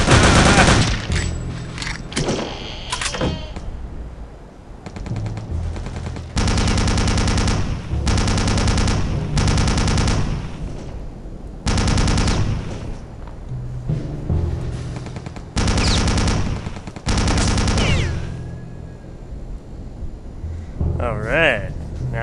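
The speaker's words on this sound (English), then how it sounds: "What kind of gun is this minigun?" A minigun in Return to Castle Wolfenstein lets loose repeated long, loud bursts of rapid, buzzing fire with short pauses between them, while someone talks at times.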